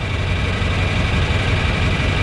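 A 1947 tractor engine idling and rumbling steadily at a Memorial Day parade in Suffield, Ohio, a continuous low, loud drone with no pauses.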